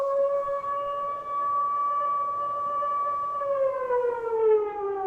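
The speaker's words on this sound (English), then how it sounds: "the siren comes on" A loud air raid siren in Israel wails with a steady, sustained tone that then glides downward toward the end, sounding alone without any voices.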